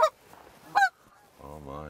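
Geese honk as they fly in toward a spread of about 150 silhouette and full-body goose decoys on a hunt. Two sharp, clear honks come a moment apart, followed by a softer, drawn-out nasal call.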